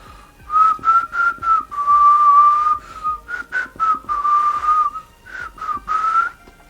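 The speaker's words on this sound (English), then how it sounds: "Gosh, my whistling is bad." One person whistles a short melodic tune up close, a clear wavering tone broken into phrases with brief pauses, slightly breathy and uneven, with no talking.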